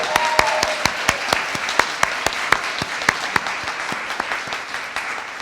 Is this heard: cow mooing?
no